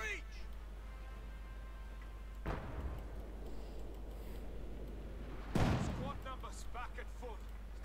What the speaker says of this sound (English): Under heavy fire here, MG34 artillery.